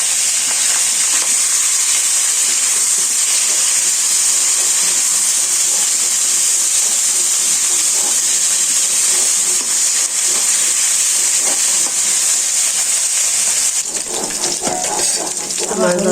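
Whole koi fish drops into hot oil in a pan with whole cumin, setting off a loud, dense, unbroken sizzle up close, shifting near the end as the fish settles; no speech.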